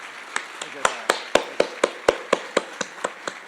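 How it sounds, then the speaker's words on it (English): About a dozen sharp, evenly spaced claps ring out, sparse and close, like a small audience or a few people clapping at a talk. "Please, round of applause."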